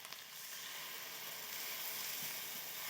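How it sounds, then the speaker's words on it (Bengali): Ginger, garlic, onion and tomato frying in hot oil with spices, a steady close sizzle and hiss with faint stirring scrapes, no voices. "আদা রসুন পেঁয়াজ টমেটো ভেজে নিয়েছি"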